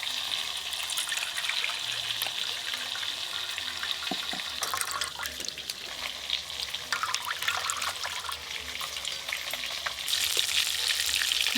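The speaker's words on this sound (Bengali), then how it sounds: "মশলা দেওয়া মাছ ভাজা হয়ে গেল।" Spiced fish, including hilsa, prawns and bata, frying in hot oil with a steady, dense sizzle and crackle throughout, with occasional sharper pops and a burst of louder spitting near the end.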